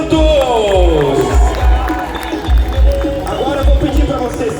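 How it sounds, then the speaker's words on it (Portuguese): Crowd at an Independence Day rally on Avenida Paulista, São Paulo, cheering and applauding loudly as a guest is introduced, with shouting voices, rhythmic low thumps and steady noise throughout. "eu quero que vocês dêem uma salva de palmas para o nosso exilado dos Estados Unidos"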